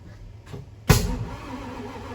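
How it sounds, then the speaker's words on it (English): A Ford F250 7.3 Powerstroke diesel engine from an old barn find cranks, then fires with one sharp backfire pop and settles into a rough, loud idle close by. "Oh, a little backfire pop."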